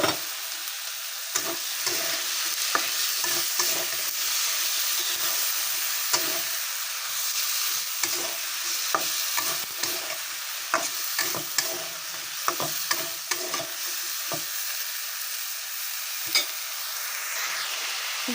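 Cut vegetables stirred into spice paste frying in oil for a mola fish chorchori, with steady close sizzling and repeated scraping clatters of a spoon against the pan throughout, no talking.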